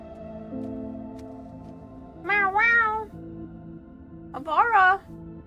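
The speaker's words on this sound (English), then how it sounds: "Meow meow!" A cat meows twice, clear drawn-out cries a couple of seconds apart, close by over a low background hum.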